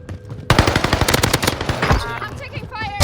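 Automatic gunfire in a video game, a loud rapid burst of close machine-gun shots that starts abruptly and keeps going, then thins into scattered shots under faint electronic effects.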